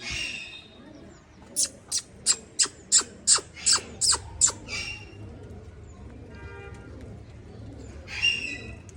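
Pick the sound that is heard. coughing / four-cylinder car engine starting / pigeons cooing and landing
pigeons cooing and landing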